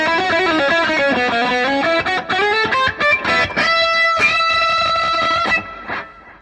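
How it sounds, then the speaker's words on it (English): An electric guitar lead tone through a Boss Katana Mark II 100-watt amplifier with echo, reverb and a touch of octave plays a loud, sustained melodic line of bending and held notes, then fades out at the end. "Channel 1, this is my lead guitar sound."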